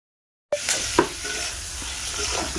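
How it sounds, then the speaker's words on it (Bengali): Fish frying in oil over a clay wood-fired stove, a sudden loud sizzle bursting in after silence and settling into a steady close crackle with a couple of sharp pops. "অনেক কষ্ট করে উনান ধরিয়ে দেখো মাছ ভাজাটা বসিয়ে দিলাম।"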